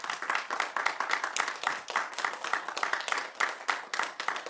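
Lecture audience applauding at the close of a talk on lyric poems, a steady, dense wash of many hands clapping that carries evenly throughout, moderately loud and heard alone without voices.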